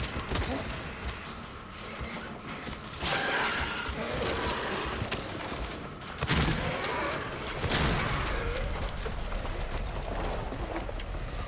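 Rapid, dense gunfire from a handgun or shotgun blasting a creepy boss monster in the survival horror game Silent Hill 2, loud and sustained across the clip in close, heavy bursts with game ambience underneath.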